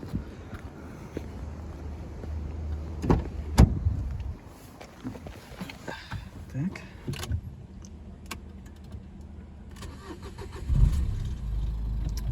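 A 2013 Nissan Qashqai with the 1.5 dCi diesel is started and left to idle, with key jingles and a brief cranking burst before a steady engine rumble continues close by.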